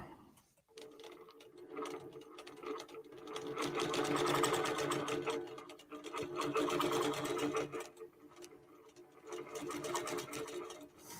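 A QBOT quilting robot running on a sewing machine, a rapid mechanical needle chatter that starts after a short pause and runs in several sustained bursts, loud and close, with brief lulls between them.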